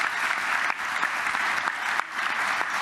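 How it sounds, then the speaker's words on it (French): Sustained audience applause at a Vendée Globe sailing race live show, dense and steady clapping from a crowd throughout, with brief dips in intensity. "Le public t'applaudissait pour te réchauffer un peu Isabelle."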